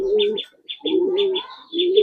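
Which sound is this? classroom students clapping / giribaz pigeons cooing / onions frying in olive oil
giribaz pigeons cooing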